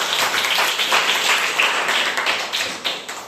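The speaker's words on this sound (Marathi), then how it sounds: "टाळ्या वाजवा" A group of schoolchildren in a classroom quiz claps hands, a brief burst of dense, close applause with quick irregular slaps that eases off near the end.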